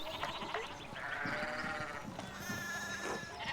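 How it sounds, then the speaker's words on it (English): Sheep bleating in the medieval adventure game Pentiment, a few wavering bleats over quiet background ambience, with some faint talk. "And there's sheep everywhere."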